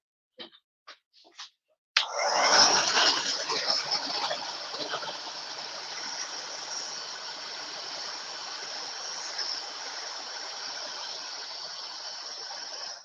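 Water running steadily into a kitchen sink, a sudden full gush starting after a few light clicks and holding a continuous, close, hissing flow to the end, with no talking.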